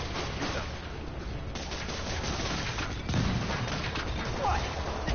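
Rockets fired in a Spider-Man game thump and boom amid a continuous rumble of explosions, with a character talking over the barrage.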